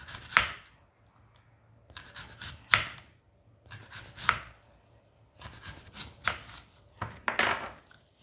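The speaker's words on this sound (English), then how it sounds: "I think I'm going to cut my apple this way." A knife slices through an apple on a board for a ploughman's platter, giving a series of crisp, close cuts in short bursts with pauses between them.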